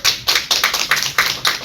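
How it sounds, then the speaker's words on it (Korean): Church youth group audience clapping in a steady rhythmic pattern, bursts of many hands repeating roughly every quarter to half second, close and fairly loud with no talking. "우리 박수 한 번 더."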